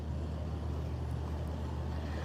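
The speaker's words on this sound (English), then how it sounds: "And here comes all the cars." Vehicles rolling onto the Sydney Harbour ferry, a steady low rumble of engines and heavy motors droning continuously at close range, with no talk.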